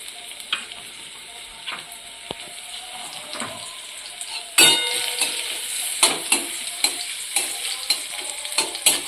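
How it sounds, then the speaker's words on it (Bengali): Carrots go into hot oil for a chicken egg roll filling. A low sizzle with scattered stirring clinks jumps to a louder, bright frying hiss midway, then spoon strokes tap steadily over it, up close. "তেল গরম হয়ে গেছে এবার আমি দিয়ে দিচ্ছি গাজর"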